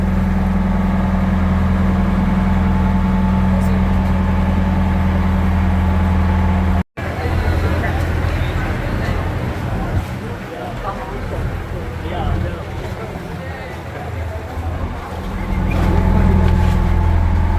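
A boat engine on a trip in the Maldives hums in a steady low drone, then after a brief cut turns into a rougher, noisier churn, with people talking over it.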